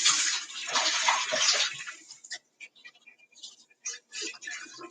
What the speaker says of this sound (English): I need to rinse this out thoroughly